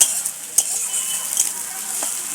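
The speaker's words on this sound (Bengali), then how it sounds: "দিয়ে দেবো পেঁয়াজ কুচি।" Chopped onion drops into a hot pan for egg biryani and sizzles in a steady, close frying hiss, with a few light clinks of a utensil stirring against the pan.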